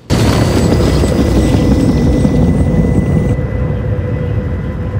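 Helicopter crash scene at the Chernobyl reactor site in a TV series: a loud, continuous low rumbling roar with a sustained engine drone that runs steadily throughout, thinning out slightly near the end.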